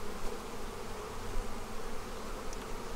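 Honey bees crowd a humid hive full of brood frames during the nectar flow, festooning everywhere; their dense, steady buzzing hums close and continuous throughout without a break.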